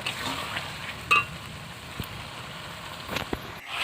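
Hot garlic chicken masala cooking in a pan makes a soft, fairly faint sizzle, broken by a few brief clinks and spatula knocks.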